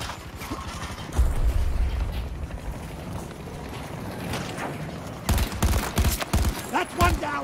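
Rapid bursts of video game gunfire crack out in clusters, with heavy low thumps early and sharper volleys near the end, as a player talks over the shooting.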